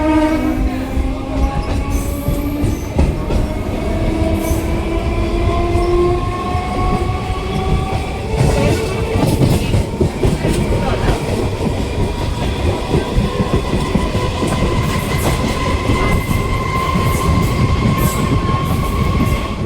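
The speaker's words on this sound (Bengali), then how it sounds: "ভগবানগোলা স্টেশন থেকে এখন ট্রেন ছেড়ে দিল।" A train pulls out of Bhagwangola station on the Sealdah division line, its engine and wheels rumbling steadily and loudly throughout with rising tones as it gathers speed, close by and with no talking.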